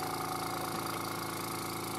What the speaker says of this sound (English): Probably help if I turn the compressor on.